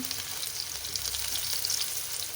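Onions frying in a pan for tomato bath, a steady bright sizzle running evenly throughout at close range with no voices.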